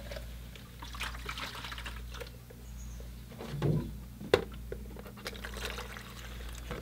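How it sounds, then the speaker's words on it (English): Fresh water is poured to fill a large painting water pail, with soft, irregular trickles and splashes over a low background hum and a sharp knock partway through. "So I'm just filling up my water pail"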